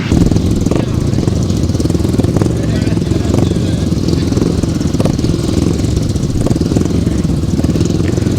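Grasstrack racing motorcycles roar off the start line together, a loud, continuous buzzing engine drone close by, with a commentator talking over it.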